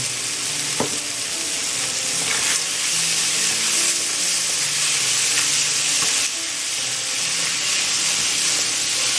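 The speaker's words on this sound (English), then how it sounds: "I took like a little more than a cup of frozen peas. Add that in." Frozen peas and green chilies sizzle and hiss loudly in a hot pan, a dense steady frying crackle with a brief sharper spit near the start.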